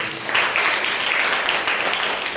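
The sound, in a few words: congregation applause in church service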